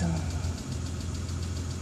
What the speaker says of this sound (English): The ticking is from my car idling in the background.